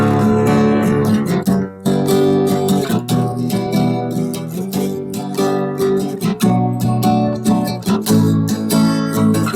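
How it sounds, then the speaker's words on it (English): A loud victory fanfare sound effect plays at full volume nearly throughout, dense brassy tones with a brief dip near two seconds, no talking over it. "Do I get a victory fanfare or something?"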